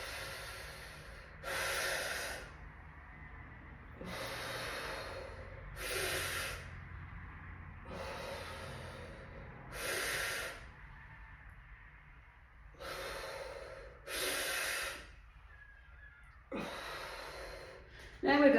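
Slow, deliberate breathing during a squat exercise: about six long breath bursts spaced a couple of seconds apart, each a soft airy rush of inhaling or exhaling, heard close and clear against a quiet background with no talk.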